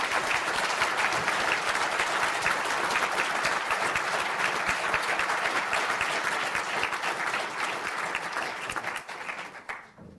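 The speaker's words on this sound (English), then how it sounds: "take a well-deserved round of applause" Graduates of the Department of Building and Civil Engineering receive applause at the ATU Galway spring conferring ceremony, a dense, steady hall-wide clapping that holds for about nine seconds before cutting off.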